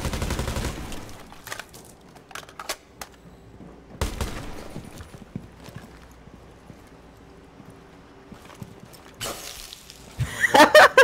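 Shotgun fire in the video game Rainbow Six Siege: a few sharp, loud blasts spaced seconds apart over a clattering, rustling background, ending in a dense burst of impacts.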